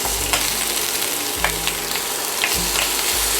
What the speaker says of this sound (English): we're just going to turn our little bacons over now